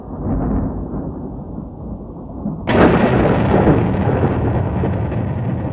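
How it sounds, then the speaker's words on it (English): Thunder from a nearby lightning strike: low rumbling builds at first, then a sudden loud crack bursts in and grows into a sustained, roaring rumble. "Lightning has struck nearby, resulting in a shutdown of the production line."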